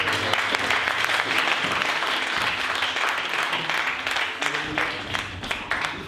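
A church congregation applauds during a Sunday worship service, with steady, dense clapping from many hands filling the whole stretch at an even, sustained level.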